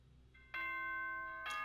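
A chime announcement from the video game Danganronpa 2 rings out clearly in two loud, tonal swells, the first holding steady for about a second before a brighter second strike, with no talking over it.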